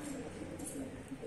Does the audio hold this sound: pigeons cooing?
yes